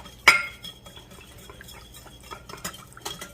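Seasoning for a chicken breast marinade being stirred in a bowl with a utensil, opening with a sharp clink and followed by scattered scraping and tapping against the bowl.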